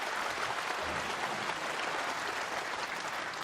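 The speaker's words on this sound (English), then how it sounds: "Encouraging applause from his legion of fans." Snooker crowd at the International Championship final applauding a player, a dense, even wash of clapping held at steady volume throughout.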